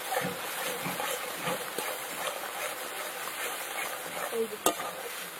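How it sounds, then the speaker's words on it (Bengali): Spice paste with mustard frying and being stirred in oil for a Bengali fish curry, a soft continuous sizzle with light scraping strokes of a spoon, fairly quiet, ending in a sharp clink. "তেল করে মশলা কিন্তু একদম ভালো করে কষিয়ে নিতে হবে"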